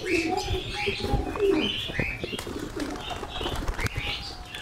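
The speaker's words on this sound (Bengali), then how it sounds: "সব নেমে গেছে কবুতর।" Pigeons coo repeatedly near a wet outdoor coop after rain, with soft wing flaps and some light chirps mixed in, fairly close and moderately loud throughout.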